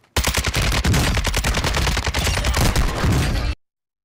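Call of Duty Warzone gunfire plays as a loud, dense automatic burst lasting about three seconds, with rapid shots stacked close together before it cuts off abruptly into silence.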